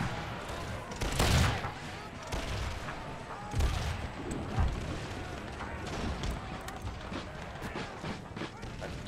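Musket volleys from a battle in Empire: Total War, with scattered crackling shots and heavier bursts firing irregularly at middle distance amid a dense, rumbling battlefield din.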